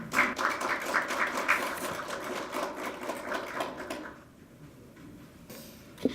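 Dense applause from an audience at a political party forum fills the room with a steady patter of clapping for about four seconds, then thins out into a few scattered claps before fading.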